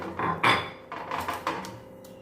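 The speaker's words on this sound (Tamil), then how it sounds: "இப்போ தேவையான தண்ணி ஊற்றி கையில் பசஞ்சு கொடுத்துக்கோங்க" Wet squelching and mixing sounds of a hand working millet idli batter with water in a metal bowl, with soft clinks against the sides, close and fairly quiet.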